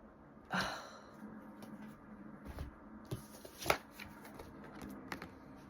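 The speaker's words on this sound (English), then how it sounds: "Let's pull some of these for these 4 cards." Tarot cards are shuffled and pulled from the deck in close, crisp bursts of riffling and flicking, with quiet breathing in the pauses between.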